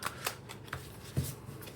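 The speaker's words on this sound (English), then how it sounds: "I'm going to pull 3 synchronicity cards" Synchronicity cards are pulled and shuffled, giving faint, close papery flicks and soft riffling snaps at irregular intervals in a quiet room.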